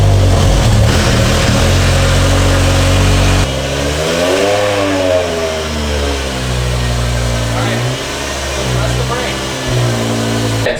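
A BMW V10 engine in a cheap used supercar runs loud and close, first at a steady rough idle, then rising and falling through several rev sweeps, with a voice talking faintly underneath.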